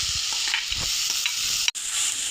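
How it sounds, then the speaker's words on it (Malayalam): A spoon scrapes and stirs crushed soybean into a spice masala in a hot pan while making a soybean and egg thoran, giving soft repeated strokes over a steady sizzle. "ഇനി നമുക്ക് നല്ലതായിട്ടൊന്ന് അരപ്പല്ലായിട്ട് യോജിപ്പിച്ച് ഇളക്കി കൊടുക്കാം"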